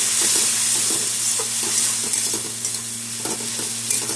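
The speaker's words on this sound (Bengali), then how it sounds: "আর কিছুটা কাশ্মীরি লঙ্কা গুঁড়ো এখন একসাথে কষিয়ে নেব।" Spices with Kashmiri chilli powder, garlic, cumin and coriander stir-fried in a pan for a Bengali prawn dish, a loud steady sizzle with light scraping strokes from stirring, heard close with no speech.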